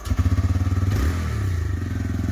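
A motorcycle with its silencer removed idles loud and close, with rapid, even thumping exhaust pulses that swell into a brief rev and then settle into a rough, continuous drone.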